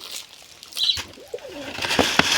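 Pigeons coo in a low, rolling call near the middle of the clip, with scattered chirps and rustling around them and a couple of sharp knocks toward the end.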